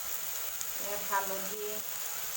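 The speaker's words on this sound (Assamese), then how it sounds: "তাৰপৰা ইয়াতে মই এতিয়া ভাজিম।" Meat coated in turmeric frying in a home kitchen pan, a soft steady sizzle with a brief flare of crackling as the pieces settle, close and moderately quiet.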